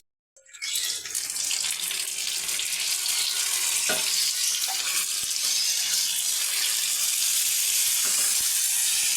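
After a brief silence, loud, steady hissing sizzle of mutton chops frying in hot oil in a kadai fills the rest, with a few faint clinks and no talking.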